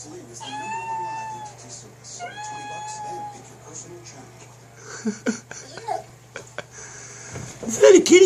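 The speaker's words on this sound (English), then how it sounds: "what sound does a cat make?" A smart speaker plays a recorded cat meowing, two clear drawn-out meows at moderate volume, followed by clatter and a louder burst near the end.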